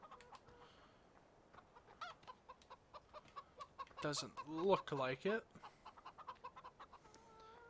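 Chickens cluck in a Farming Simulator farmyard, a brief loud burst of layered clucking calls in the middle, framed by quieter bird chatter and a voice talking before and after.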